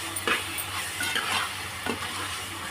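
Chicken frying in oil in a pan for gongura chicken curry, with a steady sizzle, stirring scrapes and a few utensil knocks close by.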